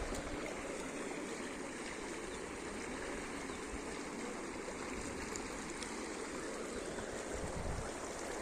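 The flooded Shilabati river in Bankura rushes past in a dense, continuous roar of flowing water, steady and loud throughout, with no voices heard.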